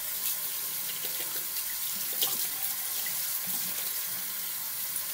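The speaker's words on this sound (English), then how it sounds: "Let me rinse off my brush real quick." Tap water runs steadily into a sink while a shaving brush is rinsed under it, a continuous close hiss with small splashy fluctuations and no talking.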